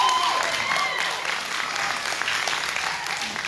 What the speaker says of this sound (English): Y'all give them a good hand clap.